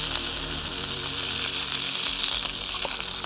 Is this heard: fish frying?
yes